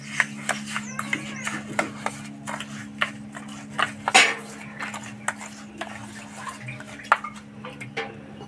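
Sugar being mixed into a ripe mango pulp in a bowl with a spoon, giving a run of close, sharp clinks and scrapes at an irregular steady pace, moderately loud, with soft background hum.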